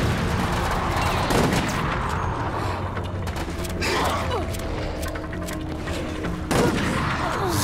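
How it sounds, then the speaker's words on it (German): Rifle gunfire in the video game Resident Evil: Operation Raccoon City, a steady barrage of shots with booms over a dense game soundscape, continuous and loud throughout, with no talk. "Mit dem Gewehr kann man auf schnelle Ziele ja auch gut zielen."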